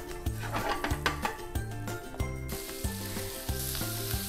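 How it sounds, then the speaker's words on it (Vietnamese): Butter and sliced beef sizzle on a Coex CH-2115 electric grill and hotpot pan, a steady frying crackle under rhythmic background music. "Chúng ta cho bơ vào trước để cho bếp nóng lên và bơ cũng tan ra thì sau đó sẽ cho thịt bò vào"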